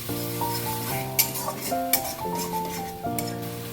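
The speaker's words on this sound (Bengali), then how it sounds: "তো এবার মাংসটা দিয়ে দিলাম মাংসটা দিয়ে এবার ভালো করে মশলা দিয়ে কষাবো" Duck meat fries with onion, tomato, ginger and garlic paste and is stirred in a pan. The sizzle is broken by spatula clinks and scrapes, and sustained tonal music plays over it.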